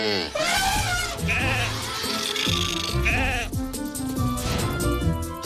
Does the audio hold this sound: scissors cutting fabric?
no